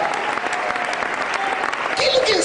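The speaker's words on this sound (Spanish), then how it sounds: "Fuerte aplauso, alabanza para el Señor." A church congregation bursts into loud, sustained applause in praise of the Lord, dense clapping filling the room throughout, with voices calling out over it near the end.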